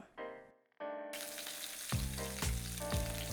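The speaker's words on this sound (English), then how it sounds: "We're going to get a couple tablespoons of oil in there and start browning off this meat." Oxtail meat dropped into shimmering hot oil in a pan, bursting into loud, close sizzling and crackling after a couple of brief hisses, then frying steadily with spitting pops.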